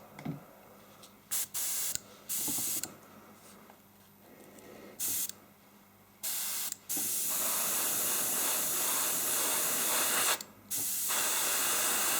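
An airbrush spraying acrylic paint hisses in short bursts, then settles into a long steady spray with one brief pause, close and fairly loud.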